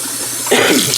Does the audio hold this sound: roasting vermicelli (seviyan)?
no